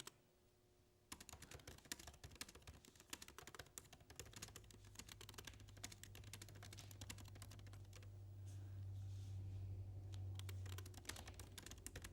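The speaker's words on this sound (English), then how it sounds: "Typing on a Mac keyboard stresses me out." Fingers type on a Mac computer keyboard in quick, uneven bursts of light clicks and taps for several seconds, with a steady low hum rising in the background partway through.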